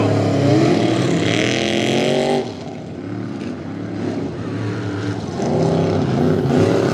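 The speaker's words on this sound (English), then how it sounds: "Very aggressive charge out of both of these trucks." Tough trucks roar through S-curves on a grass track at a Lima, Ohio finals event, engines loud and close, dipping briefly midway before surging back to a strong drone.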